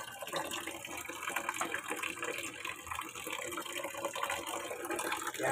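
Weak flow of tap water running into a container, a steady splashing trickle heard close and fairly quiet throughout.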